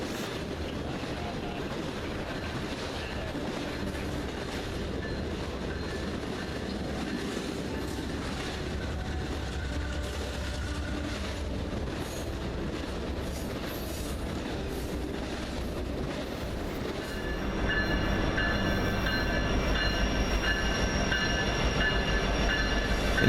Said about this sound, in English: We have a three-way meet of trains going in and out of the yard here.